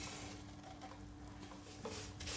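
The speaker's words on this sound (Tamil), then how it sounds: "இந்த சேமியாவை இதில் போட்டு வறுத்துக்கலாம்." Thin vermicelli is stirred and roasted in a pan, with quiet continuous scraping and soft sizzling close up and no talk.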